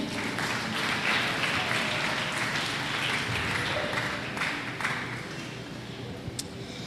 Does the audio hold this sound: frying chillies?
no